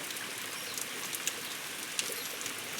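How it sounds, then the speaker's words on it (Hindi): Steady rain falls over a village on a rainy day, a dense, even hiss with scattered sharper drop taps and faint bird chirps, with no voices. "क्योंकि बारिश भी हो गई।"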